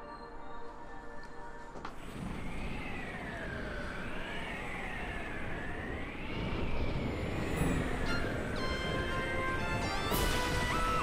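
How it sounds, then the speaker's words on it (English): A ship crash-lands in Pikmin 3: after a quiet start, a loud warbling siren-like whine rises and falls over a roaring descent, ending in a crash near the end, with no voices. "you guys need to stop crash landing"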